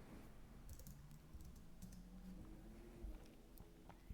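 Faint computer keyboard taps come through as a short terminal command is entered, a few soft clicks over a steady low background hum.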